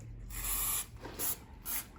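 Three short hissing bursts from an aerosol spray can, evenly spaced and fairly close, over low background noise.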